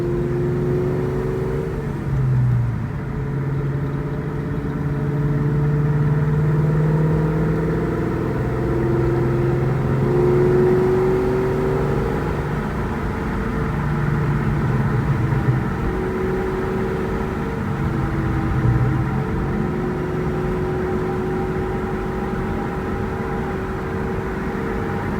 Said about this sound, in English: Maybe we get a second or third gear pull on our way back home.